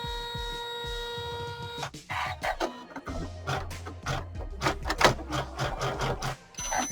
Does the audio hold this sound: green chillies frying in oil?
no